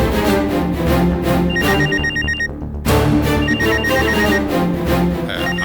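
A telephone rings in a Tamil TV serial scene, its repeated bell bursts sounding loud over a steady music bed, with a short pause partway through before the ringing resumes.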